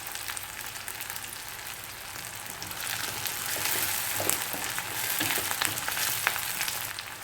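Fenugreek, fennel seeds, garlic, onion and asafoetida sizzle steadily in hot sesame oil for a Tamil fish curry, a continuous crackling hiss with small pops that swells slightly midway.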